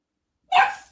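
A single short, sharp dog bark after half a second of silence, close and fairly loud, with no voices.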